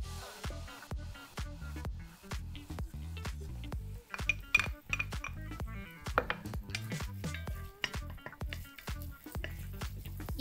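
Onion going into a hot pan with oil, giving a soft continuous sizzle broken by clinking and scraping of a utensil against the pan, close and fairly quiet with no talk.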